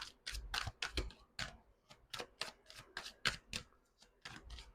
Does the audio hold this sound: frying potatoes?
no